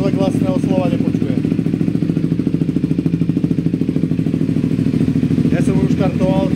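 A warmed-up motorcycle fitted with an X-Race exhaust idles loudly and steadily close by, its rapid pulsing thrum unbroken throughout.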